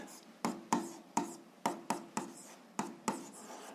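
Pen strokes on paper while working out a 7th-grade algebra exercise: about nine distinct short scratching strokes in an irregular rhythm, close and fairly quiet, with no voices.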